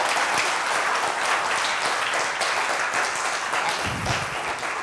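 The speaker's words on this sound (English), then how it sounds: "So on that note, a big round of applause for all of you." A conference audience of trainers and speakers gives a big round of applause, a thick continuous wash of clapping hands at steady loudness, close and unbroken throughout with no talking.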